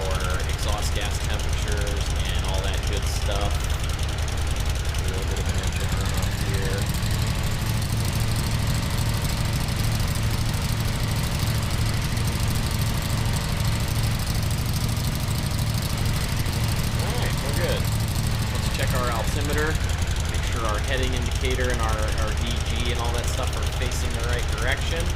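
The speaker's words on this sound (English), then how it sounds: "A little bit of an engine run up" A simulated Aerolite 103 ultralight's small engine runs up in Microsoft Flight Simulator 2020, a steady loud drone that holds for the whole stretch, rising slightly in the middle, with a voice talking over it at times.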